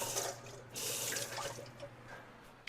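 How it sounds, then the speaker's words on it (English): A kitchen sink tap runs while hands are washed under it, a steady close splash of water with brief drips near the end, fairly quiet and heard alone. "Okay, I'm going to wash up and then we're going to get these in the oven."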